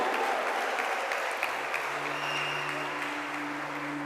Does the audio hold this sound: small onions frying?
no